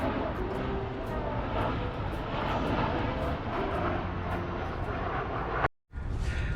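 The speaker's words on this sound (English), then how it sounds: "this was a brilliant place to catch planes flying into Leeds Bradford Airport" An airplane flying in to land at Leeds Bradford Airport, heard from a sports field as a loud sustained engine roar with a brief dropout near the end.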